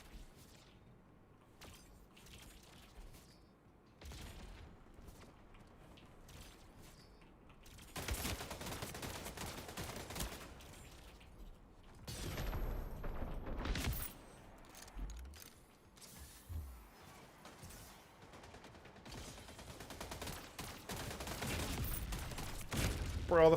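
Shotgun blasts in a video game come in quiet, separate bursts spaced several seconds apart, with softer mechanical clicks and scattered game effects between them.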